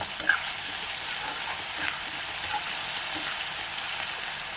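Ingredients sauté in a pan with rock salt while cooking a dried-fish curry, giving a steady, close sizzle with occasional stirring scrapes and no talk.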